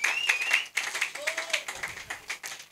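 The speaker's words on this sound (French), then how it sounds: "Si c'est drôle, on applaudit" Comedy show audience applauds in a short, moderately loud burst of clapping, with voices and laughter mixed in over the claps.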